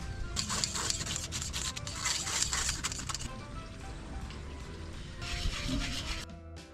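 Sapin-sapin batter is worked through a sieve, giving a close, continuous scraping and rubbing with a low background rumble, fading toward the end.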